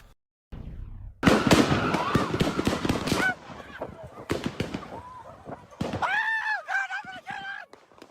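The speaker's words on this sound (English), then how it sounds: "This video shows hundreds of people running for their lives as a barrage of gunfire echoes around them." A rapid barrage of gunshots cracks and echoes through city streets during a mass shooting in the Orange Mound area of Memphis, loud and close, with shouting voices breaking in after the bursts.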